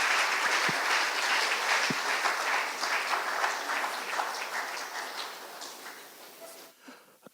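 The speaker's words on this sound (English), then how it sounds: "Can we have another round of applause for our chief host," An event audience at Innovention 2015 applauds in a sustained round of many hands clapping, strong at first and then gradually thinning and fading away toward the end before a brief silence.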